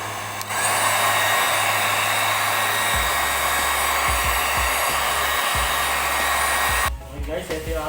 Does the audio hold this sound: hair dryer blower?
yes